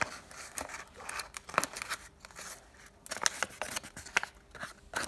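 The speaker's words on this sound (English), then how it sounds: "I'm just going to cut along the edge right here." Scissors cut through paper along the edge of a paper cone, a close series of short crisp snips and crunches in irregular bursts with brief pauses between them.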